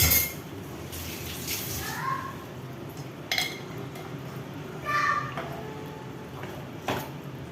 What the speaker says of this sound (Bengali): তো এই যে ধোয়া পাকলা করে ফেলছি